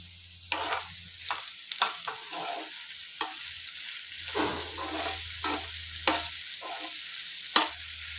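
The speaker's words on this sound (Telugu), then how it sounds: "ఇప్పుడు ఒకసారి మనం అంతా మిక్స్ చేసుకోవాలి." Beetroot fry with salt being stirred in a pan, with repeated scraping strokes of a spatula over a soft, continuous sizzle and a low steady hum beneath.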